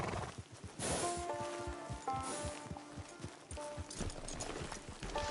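Horse hooves clip-clopping at a walk in the video game Red Dead Redemption Online, a steady close rhythm of hoof beats on ground, with a faint whinny and light ambient rustle.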